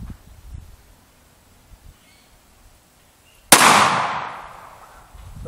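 A single sharp, loud gunshot from an FN Five-seveN MKII pistol firing 5.7x28mm black tip armor-piercing rounds cracks out of near silence and rings off in a long decaying echo.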